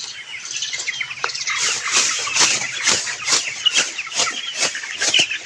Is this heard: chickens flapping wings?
yes